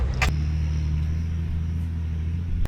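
A TD42 diesel vehicle climbs a hill, its engine a steady, loud low drone heard from inside the cab. A brief knock sounds near the start and a short clunk at the end.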